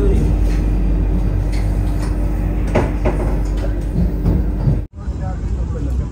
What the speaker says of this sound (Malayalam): കോഴിക്കോട് നിന്ന് വണ്ടി എടുത്തിരിക്കുകയാണ്